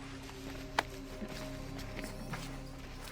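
Horse hooves galloping in Assassin's Creed Valhalla, a steady run of soft clip-clop beats under a low, sustained game soundtrack, with one sharp knock near the start.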